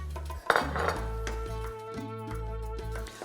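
Liver pieces being stirred with a spoonful of concentrated tomato paste in a metal pot, a steady run of spoon clinks and scrapes against the pot with a low hum underneath.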